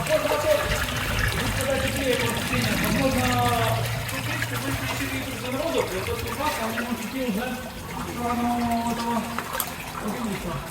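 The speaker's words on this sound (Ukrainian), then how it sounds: "Так а це що, запульпована вода звідси лється?" Water pours and splashes steadily in an echoing tunnel while people talk over it.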